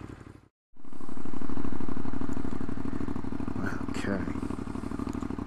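A Ducati Monster motorcycle engine cuts out briefly, then roars back up and runs at a steady, loud, rumbling pace close by. A short spoken word comes partway through.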